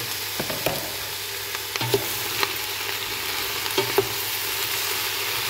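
Beef dropped into a pan of red pepper for Colombian-style ajiaco, giving a steady low sizzle with a few sharp clicks and scrapes of stirring, no voices.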